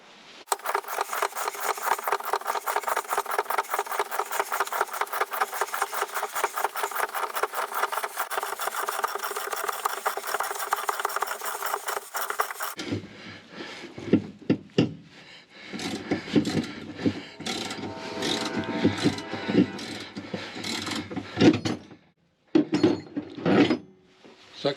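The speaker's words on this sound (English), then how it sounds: "I've got the proper pulling device on the coupling here. I'm hopeful that a few turns will have the coupling off" Pulling device being turned to work a shaft coupling off a Westsail 28 sailboat, first a long rapid rhythmic grinding rasp, then irregular bursts of scraping and clunking with pauses.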